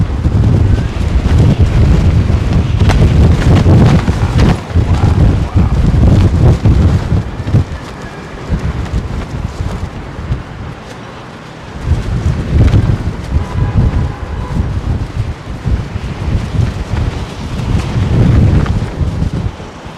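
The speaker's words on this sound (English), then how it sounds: "Too much wind." Strong wind gusting across the open apron at London Heathrow Airport, a loud, continuous buffeting roar on the microphone that rises and falls in surges throughout, with no voices heard.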